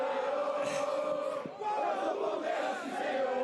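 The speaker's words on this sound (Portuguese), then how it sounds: "Tem muito palmeirense cantando alto, cantando forte" Palmeiras football fans chanting loudly together in a stadium crowd in Lima, a dense, sustained roar of massed voices singing throughout.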